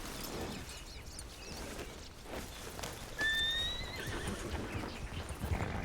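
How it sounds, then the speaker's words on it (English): A horse in a RedM roleplay game whinnies once, with a rising call, over a steady bed of clip-clopping hooves and ambient outdoor noise, fairly close and moderately loud. "I need to switch horses before we fully ride out."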